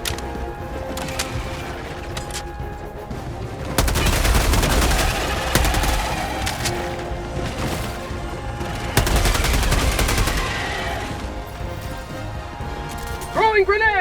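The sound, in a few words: gunfire from guns in Helldivers 2 video game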